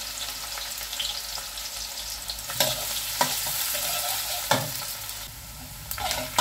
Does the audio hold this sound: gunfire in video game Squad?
no